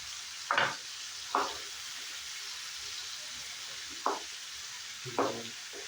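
Tuna fish fries in a pan, giving a constant background sizzle broken by a few short, loud bursts of spitting hiss spaced a second or more apart.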